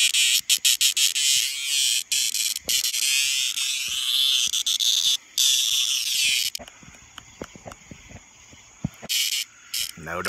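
Loud, harsh buzzing bursts from a nearby cicada, starting and stopping irregularly, with some handling noises between calls.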